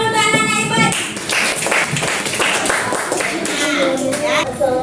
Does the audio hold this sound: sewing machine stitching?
no